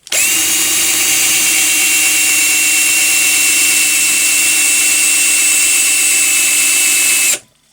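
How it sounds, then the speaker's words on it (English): Power drill whirring steadily and loudly at close range while assembling a wooden child's art easel, one continuous run that cuts off abruptly at the end. "turn it so that the drill is actually going the correct way"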